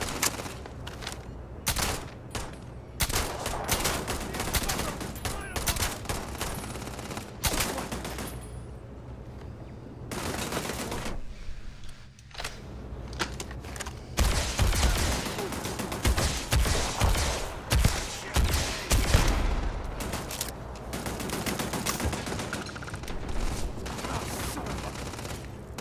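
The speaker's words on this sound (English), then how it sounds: "Just shooting away, not even hitting anything." Gunfire erupts in the video game Starfield as rapid automatic bursts and repeated shots rattle on and off over about twenty-five seconds, with short pauses between volleys.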